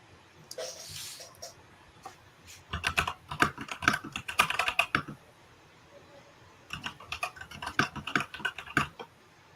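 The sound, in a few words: loud computer keyboard typing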